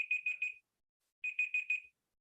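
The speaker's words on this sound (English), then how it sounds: "that's my timer." A timer alarm goes off during a chamber of commerce member meeting, sounding two bursts of four rapid electronic beeps separated by a short pause, loud and clear with no talking over it.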